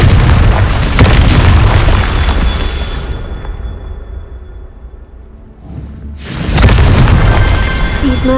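The Confringo fire spell in Hogwarts Legacy detonates as a loud, booming explosion whose deep rumble fades away, followed a few seconds later by a second heavy blast.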